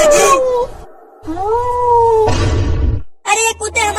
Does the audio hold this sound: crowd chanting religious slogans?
no